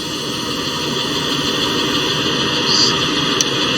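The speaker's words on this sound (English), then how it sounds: "You can hear the engines starting to fire up." Apache helicopter engines firing up in the Arma 2 video game, heard as a steady broadband turbine hiss with faint high whining tones and a small brief lift in intensity near the end, no talking.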